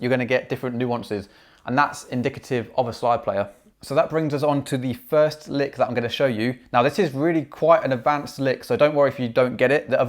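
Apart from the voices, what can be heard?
None of the usual background noises is heard.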